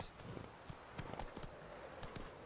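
Horse hooves clip-clop in The Witcher 3 video game, a quick irregular series of soft thuds under a faint noisy background.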